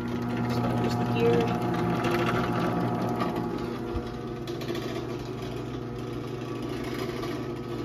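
A BuildMark 3255BM garage door opener with its motor and gears running, giving a steady mechanical hum and whir that holds throughout, close by, while a person talks over it.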